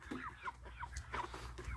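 Standard hybrid or purebred hens cluck in short, close bursts, several soft clucks following one another with low farmyard noise underneath.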